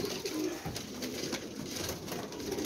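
Flying pigeons in a fancier's loft coo softly in low, throaty repeated phrases, close by and fairly steady, with faint background rustle and no talking.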